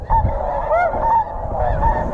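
Snow geese honking during a goose hunt in Alberta, a loud flock calling close overhead with repeated overlapping honks over a low rumbling background.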